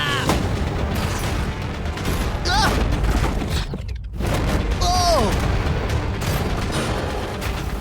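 Tank missile shots aimed at money come as a barrage of heavy booms and crackling blasts over a constant rumble, with a brief lull midway and people speaking over the din.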